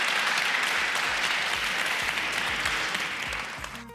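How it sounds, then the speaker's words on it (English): An audience at an energy-sector panel discussion gives the panel a dense, sustained round of applause that fills the room before tapering slightly at the end. "Give them once again a big round of applause."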